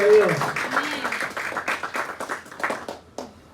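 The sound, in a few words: audience applause in church service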